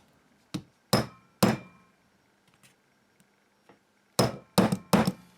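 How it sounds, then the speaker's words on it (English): A hammer strikes a center punch into the steel of a motorcycle sprocket, giving sharp metallic clangs in two bursts of three with a few faint taps between, close and loud. "I'll get a centre punch and I'll see if I can punch a few holes around the perimeter"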